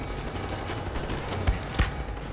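Gunfire in the shooter game Wolfenstein: The New Order, a bed of continuous noisy rattle with two sharper distinct shots standing out, fairly close, no talking.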